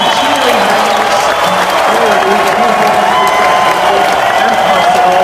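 A crowd of children cheers and claps at a school celebration, with loud, dense applause, whoops and shouting filling the space continuously from start to finish.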